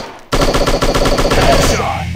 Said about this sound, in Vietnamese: Ok, AK-47